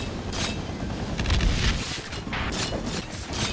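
Iron Man missiles burst in Spider-Man 3 as a string of booming explosions, each a short loud blast over a constant rumbling battle din, with no voices.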